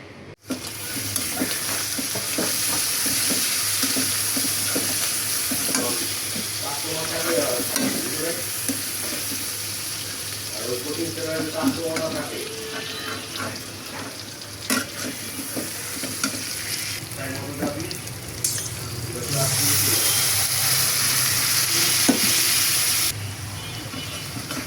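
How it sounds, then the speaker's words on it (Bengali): Prawns sizzle in a pan with onions and spices, mustard paste added, as they are stirred; a steady loud frying hiss with scraping stir strokes continues throughout, louder again near the end. "চিংড়ি মাছ আগে পেঁয়াজের সাথে একটু ভেজে নিলাম, তারপরে সব মশলাগুলো দিয়ে দিলাম।"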